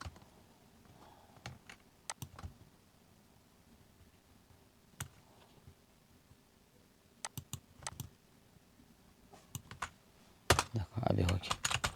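Computer keyboard keys are pressed for Photoshop shortcuts, giving sparse sharp clicks in small clusters over a quiet room, then a denser burst of typing and clatter near the end.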